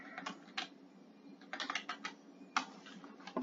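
Typing on a computer keyboard during a hockey card design session, with bursts of close, crisp key clicks in irregular clusters over a low steady hum.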